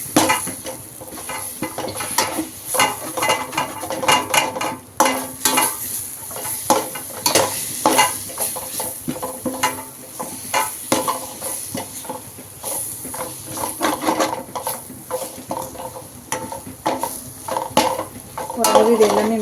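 Fish gravy masala is stirred in a pan as it fries, with continuous sizzling and a utensil scraping and clinking against the pan throughout, loud and close.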